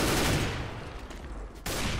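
Pistol fire in the video game CS:GO, a dense crackle of shots at close range, fading briefly before another burst starts at the end.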